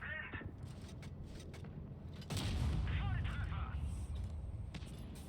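A loud gunshot-like boom of a tank destroyer's gun firing in World of Tanks Blitz, a heavy blast followed by rumbling under busy background sounds and a voice.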